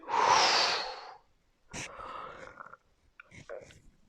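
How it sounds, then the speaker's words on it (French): A person breathing out in a long, loud blowing exhale during a relaxation exercise, followed by two quieter, shorter breaths with pauses between them. "Souffler."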